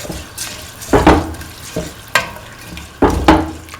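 A kidney bean, snake gourd and rice mixture is stirred in a pan, with three or four loud wet scraping strokes and sizzling bursts separated by short quieter gaps.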